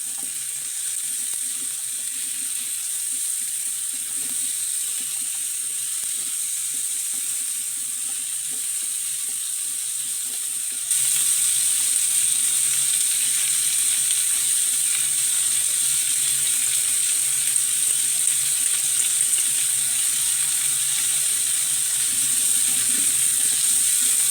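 Sliced squash sizzles and fries in a pan with a steady, bright hiss that grows louder midway as stirring adds faint scraping underneath, close by and continuous, with no talking.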